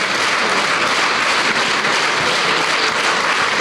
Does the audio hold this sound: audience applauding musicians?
yes